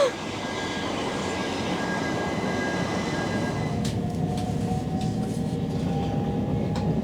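A Southern passenger train bound for Portsmouth Harbour makes a steady, loud rumble from inside the carriage, with a constant roar and faint higher tones, and no talk heard.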